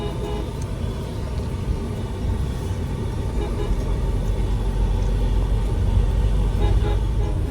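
Tata Altroz creeping at about 10 km/h through congested city traffic, a constant low road rumble with surrounding vehicles and occasional horn toots, growing slightly louder toward the end; no talking.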